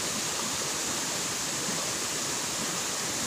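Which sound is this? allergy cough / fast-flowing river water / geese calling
fast-flowing river water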